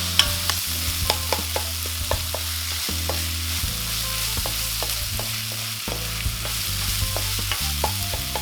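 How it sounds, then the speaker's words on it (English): Onions for a chickpea curry frying and sizzling in a pan while a utensil stirs them in steady, repeated scrapes and taps, loud and close with no talking. "constantly stir until onions are caramelized and golden"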